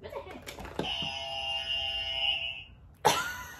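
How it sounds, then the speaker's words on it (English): A dropped game buzzer sounds during a Disney tune-guessing game, giving a sustained electronic tone for about two seconds. Voices are heard before and after it. "I dropped my buzzer."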